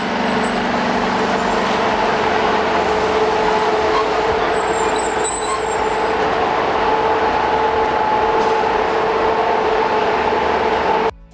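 Steady loud rumble of a train rolling past nearby, continuous and heavy throughout, with a high metallic squeal briefly rising in the middle.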